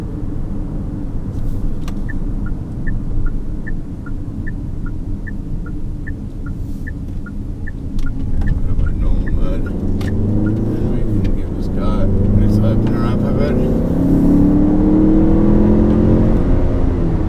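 A Chery Tiggo 8 Pro Max SUV in normal mode accelerates hard, its engine note rising and climbing steadily through the gears inside the cabin, with a soft rhythmic ticking early on and a voice talking over the drive.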